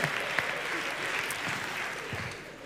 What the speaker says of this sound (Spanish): que estáis aplaudiendo